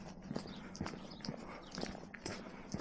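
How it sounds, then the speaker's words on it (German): Horse beside a hilly hiking path near a canal, heard as faint, irregular hoof clops and shuffling steps over steady outdoor background noise, with no talking. "da gibt es ein Pferdchen an der Seite"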